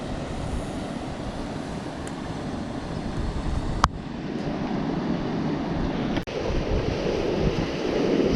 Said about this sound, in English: So the wind has picked up a little bit and it's quite breezy.